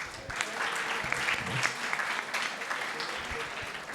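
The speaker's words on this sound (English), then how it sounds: "Please give her a huge round of applause." Audience applause fills a panel discussion on youth climate changemakers, a steady sustained clapping from a crowd that stays fairly even for several seconds, with a faint voice underneath.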